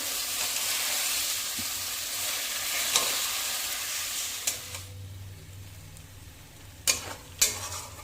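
Chicken being sautéed in a pan, a loud steady sizzle that quiets midway as stirring continues, followed by a few sharp clicks and knocks of a utensil against the pan.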